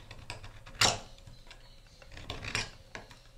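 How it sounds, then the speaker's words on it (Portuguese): A ball stylus tool scores dimpled grooves into wood, making quiet scratchy rasps with two stronger strokes and lighter scrapes between them. No voices are heard. "vou vir com a ponta desse boleador e vou riscar"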